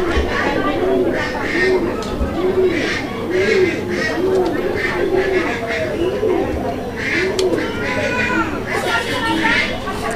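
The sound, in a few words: pigeon cooing, Raj Golla pigeon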